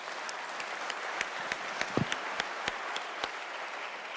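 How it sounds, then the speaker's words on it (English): Applause in the West Virginia House of Delegates chamber: sparse, sharp hand claps at a fairly regular pace over a quiet room, a few fuller claps near the middle. "Please give a big round of applause for Evelyn Kingery"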